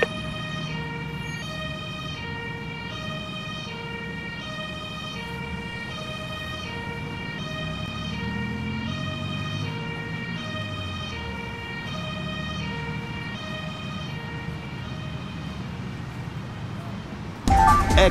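A two-tone ambulance siren in an Emergency video game wails continuously at a steady alternating rhythm over a low engine hum, cutting off abruptly near the end.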